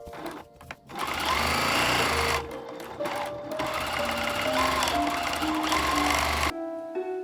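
A sewing machine runs close and steady, stitching the edge of a flat-felled seam in fabric, with two short pauses between fast, buzzing bursts of stitching.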